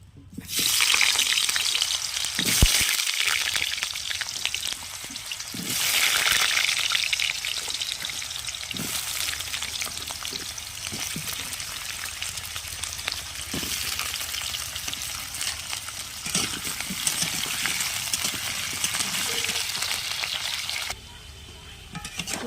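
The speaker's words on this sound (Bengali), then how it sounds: "আমার তেলটা গরম হয়ে গেছে। আমি এর মধ্যে দিয়ে দিচ্ছি আলুটাকে লাল করে ভেজে নিতে হবে।" Potato pieces fry in hot oil with a steady, crackling sizzle close by, broken by a few clattering stirs and splashes of the pan.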